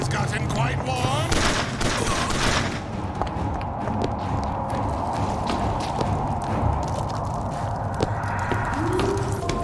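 Rapid, sustained gunfire from a hot-running weapon in the video game BioShock Infinite, with dense repeated shots rattling on for several seconds over a busy game soundscape.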